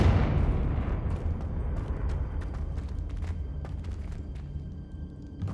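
A Confringo fire spell explodes in Hogwarts Legacy with a loud, close boom that rolls off into a long rumbling decay, scattered crackles following as it fades.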